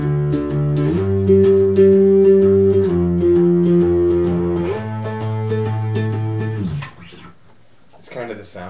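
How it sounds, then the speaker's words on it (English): A distorted bass guitar played through a wah pedal left in the flat position, with sustained held notes and a thick, buzzing, saturated tone that rings for several seconds before a brief pause and a few final plucks. "I'm just going to push down on my distortion and then get on my wah and have it flat"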